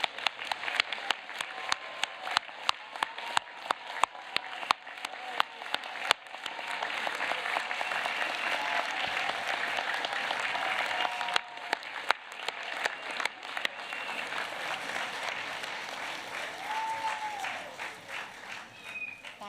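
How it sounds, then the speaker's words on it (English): Thunderous applause at a university law faculty graduation ceremony, sustained crowd clapping lasting nearly twenty seconds, with a few loud individual claps standing out near the front and a faint voice or two underneath. "Thunderous applause again."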